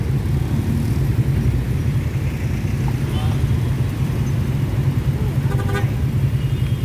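Heavy rush-hour traffic around McKinley Hill in Taguig City hums as a dense, steady engine rumble from inside or beside a car. It stays continuous throughout, with light talking over it.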